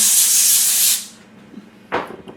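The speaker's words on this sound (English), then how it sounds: "we'll spray it anyways" A steady hiss of aerosol cooking spray onto a pan for about a second, then it stops, followed by a faint clatter.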